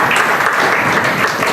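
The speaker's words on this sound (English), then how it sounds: "Please give a round of applause to them." Applause from the audience at a corporate grant symposium in Chennai, a steady dense wash of clapping that holds for the whole short stretch with no voices over it.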